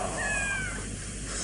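A cat meows from up in a tree, a single drawn-out mew lasting about half a second, clear and fairly close over steady background noise; eerie mystery drama setting.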